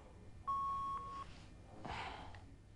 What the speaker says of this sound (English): nothing but an annoying fax tone